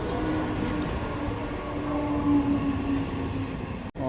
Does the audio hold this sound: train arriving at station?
yes